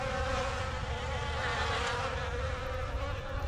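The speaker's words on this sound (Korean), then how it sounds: "윙. 귀를 어지럽히는 소리들. 파리, 날파리." A swarm of flies buzzes in a dense, unbroken drone at the entrance of a closed school's science hall, set as a horror ASMR effect; the loud, steady hum holds for several seconds with no voices.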